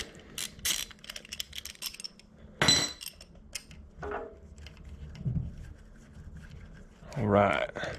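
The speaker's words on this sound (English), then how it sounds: "we should be able to get like a little flathead screwdriver in here and pop this out" A small flathead screwdriver pries at the rear cam cap plug on an NB Miata engine, giving scattered close metallic clicks and scrapes, with a sharper pop near the end.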